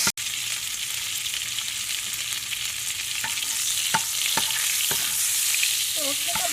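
Smoked herring frying in a pan over medium heat for an omelette, giving a steady, close sizzle and crackle throughout with a few sharp pops and a brief clink of the pan near the end.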